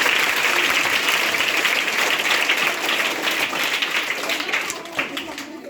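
Loud, sustained audience applause fills a hall at a talk on scientific outlook and superstition, dense overlapping clapping that holds steady and tapers slightly toward the end.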